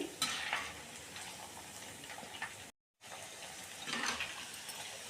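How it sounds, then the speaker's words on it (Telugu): Ivy gourd (dondakaya) pieces frying crisply in hot oil in a home kitchen, a soft continuous sizzle with stirring scrapes, fairly quiet, broken by a brief total silence partway through. "చూసారా ఎలా క్రిస్పీగా ఫ్రై అవుతున్నాయో"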